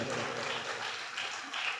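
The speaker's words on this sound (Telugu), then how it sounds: "గట్టిగా చప్పట్లు కూడా దేవునికి స్తోత్రం చెప్పండి" Churchgoers clap together in a steady, dense wash of applause through a short stretch, heard somewhat distant and even throughout.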